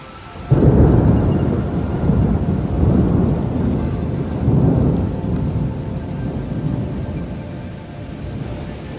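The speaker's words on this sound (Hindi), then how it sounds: "भाई अभी बारिश शुरू हो चुका है, बहुत ही भयंकर।" A thunderstorm breaks over a petrol pump at night: loud rolling thunder over a thick, continuous wash of heavy rain that stays strong throughout, with no talking.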